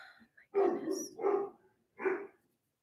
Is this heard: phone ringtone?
no